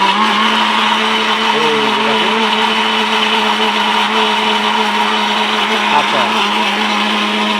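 Steel Bush robot blender grinding ginger and garlic, a loud, close, steady high-speed motor whine with a constant pitch and a slight wavering as the contents churn, running without pause.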